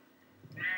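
A sheep in Minecraft bleats once near the end, a short rising call that swells out of near-silence and grows louder.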